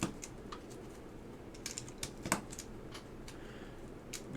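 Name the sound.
keycaps pressed onto Geon F1-8x keyboard switches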